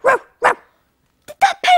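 A toy dog inside a pencil case barks five times, two sharp close barks, a pause, then three quicker yapping barks, loud and alone without talk.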